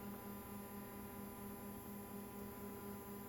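A steady electric hum from two ripper motors running on a dual-motor DD40 build, with a constant low drone and faint higher whine, unchanging throughout, with no voices.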